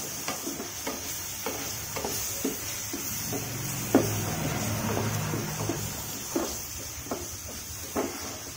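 A spoon stirring pumpkin curry with hand-crushed kasuri methi in a pan: a low gentle sizzle under repeated clear taps and scrapes against the pan, with a sharper knock midway.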